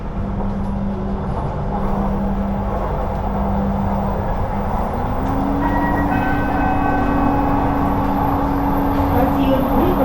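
An LRT Jabodebek Bekasi Line train runs along with a steady rumbling roll and a rising electric motor whine, heard from inside the carriage, with an announcement voice over it.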